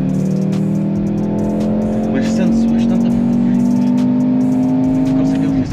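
Automatic Mercedes engine holds a loud, steady drone while drifting at speed on the Algarve International Circuit, pitch creeping upward, with someone talking over it.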